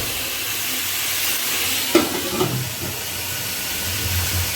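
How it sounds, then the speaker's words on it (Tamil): Tomatoes sautéing in a pan for a Sankara fish curry, a steady soft hiss and sizzle with a brief clatter of a utensil or lid near the middle, no voices. "தக்காளி நல்லா வதங்கட்டும் ஃப்ரெண்ட்ஸ்."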